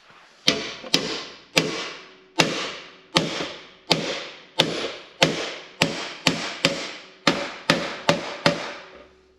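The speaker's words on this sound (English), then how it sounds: "Surprisingly quick with a bigger hammer and a bigger vise" Sharp, ringing hammer blows strike metal held in a vise at a steady, deliberate pace, each hit followed by a short decay, about fifteen strikes in a row.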